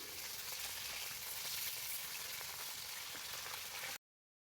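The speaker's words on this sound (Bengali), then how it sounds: "তেল ভালো গরম হয়ে এসেছে। এবার মাছগুলো ভেজে নেব।" Fish fry in hot oil in a wok, giving a steady, loud, close sizzle that holds without a break for about four seconds before cutting off abruptly. Nobody speaks.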